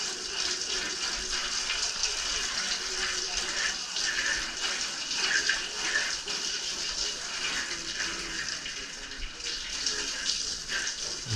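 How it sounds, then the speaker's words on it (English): Water from a hose sprays steadily into a surfboard box in a shaping and glassing workshop, a continuous close hiss and splash with no pauses and no talking. "Now you hose out your box."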